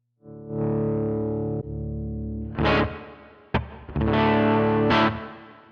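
Clean electric guitar chords ring out alone through a Line 6 Pod Express Fender Princeton-style clean amp model, sustained strums with a few sharp picked attacks, warm and close with no distortion.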